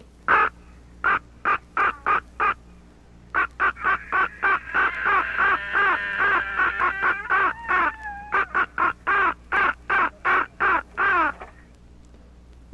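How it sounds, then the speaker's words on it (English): A raven in Alaska calls in a long series of loud, close, harsh croaks, some run together into throaty gurgling notes, with brief gaps between bursts. "the raven,"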